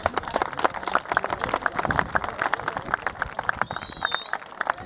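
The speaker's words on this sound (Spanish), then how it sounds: "primer aplauso, y de corazón y sincero, para vosotros" Lively applause from a crowd at an outdoor sprint kayaking podium and medal ceremony, dense rapid claps sustained throughout, fairly close, with a brief whistle near the end.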